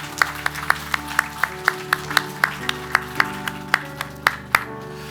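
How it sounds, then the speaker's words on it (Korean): Sharp, evenly spaced claps ring out in a steady rhythm inside a Korean Holiness church during a Sunday morning service, over sustained instrumental tones, with no voices. "우리 하나님께 감사와 영광의 박수 올려드립니다."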